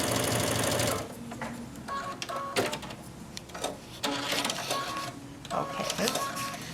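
A sewing machine runs in a loud, fast burst stitching a seam, then stops and restarts in short mechanical runs of chattering needle strokes, with a person talking over the pauses.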